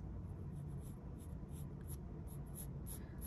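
A pencil taps and scratches on drawing paper while points are marked out for a still life, making a string of quick, light ticks over a close, steady low rumble.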